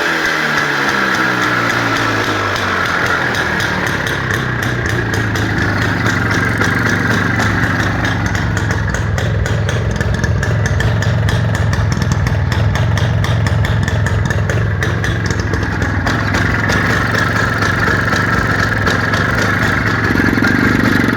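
A motorcycle engine runs during a condition check in Fergana, giving a steady, close mechanical drone with light clatter and gently shifting pitch.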